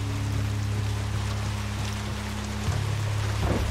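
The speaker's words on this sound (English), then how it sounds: "Or is it just a heavy rain?" Heavy rain pattering steadily in the first-person shooter game Hunt: Showdown, a dense hiss over a low steady hum and tonal drone, heard alone without talk.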